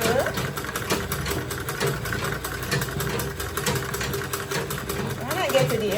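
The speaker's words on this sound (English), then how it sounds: "I'm just going to sew it with like half an inch in allowance" A sewing machine stitching a bag lining with a half-inch seam allowance, heard as a steady close mechanical whir with a rapid rhythmic needle beat, running under talk.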